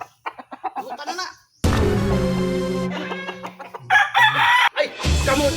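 A rooster gives one loud, drawn-out crow close by, with sharp clucks and squawks from chickens before and after it.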